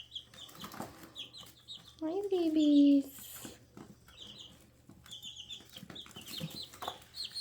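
Buff Orpington and Barred Plymouth Rock chicks, two and a half weeks old, make soft scattered cheeps and clucks close by, with one louder call in the middle and someone speaking gently over them.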